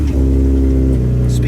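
A Jeep Wrangler with a swapped-in LS V8 engine hums and revs while driving, a loud, close, deep steady drone with a rising note, overlapped by a voice speaking.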